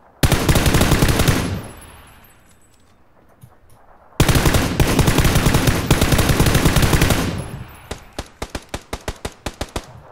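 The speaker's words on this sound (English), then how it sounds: "What's he shooting at? Tree, I guess. Suppression fire" Machine gun suppression fire in a video game: loud, close sustained bursts of rapid automatic shots, a short pause, then another long burst trailing into a string of spaced single shots.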